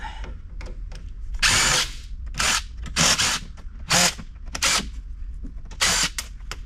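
Power driver bursts repeatedly as screws are backed out of a UPS unit, six or seven short whirring runs of about half a second each separated by pauses, close and loud with no talk.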